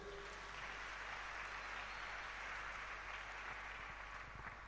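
A church congregation claps together in sustained, even applause, a dense broadband patter heard at moderate distance for several seconds with no voices on top.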